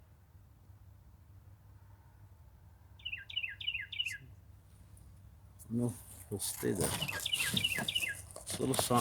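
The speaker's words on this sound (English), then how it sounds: "This bird comes and visits me quite a bit." A wild bird chirps in short repeated bursts, a quick cluster of tweets followed by more chirping amid louder rustling and outdoor noise, with a person talking briefly over it.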